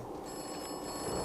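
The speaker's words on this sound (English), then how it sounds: "Here we got a phone ringing." A telephone rings in Atomfall, a steady electric bell trill that holds for the whole moment, moderately loud over a soft ambient bed, with nobody talking.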